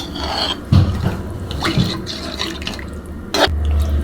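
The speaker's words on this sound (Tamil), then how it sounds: "ஒரு டம்ளர்லேருந்து ஒன்றரை டம்ளர் தண்ணி வந்து சேர்த்து நம்ம மூடி வச்சிடலாம்" Water poured from a tumbler into a pan of chicken liver pepper fry splashes and gurgles, with a few brief splashes and then a sizzling wet burble, close and moderately loud.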